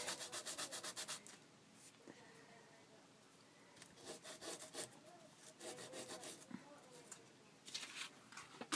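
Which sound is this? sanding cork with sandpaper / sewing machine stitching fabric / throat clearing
sanding cork with sandpaper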